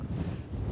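A short burst of low, blustery wind buffeting the microphone, rumbling steadily for under a second.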